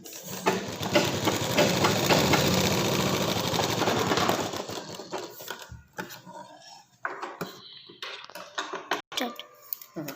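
A sewing machine stitches a seam on garment lining, running in a dense, steady mechanical whir for about five seconds, then stopping and giving way to scattered clicks and handling sounds.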